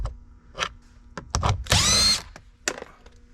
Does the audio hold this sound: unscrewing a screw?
yes